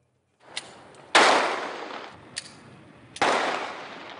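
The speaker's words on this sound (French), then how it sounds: "Échange de coups de feu." Two loud, sharp gunshots in an exchange of fire during a hostage-taking simulation at a store ring out a couple of seconds apart, each trailing into a long echoing decay, with fainter pops in between.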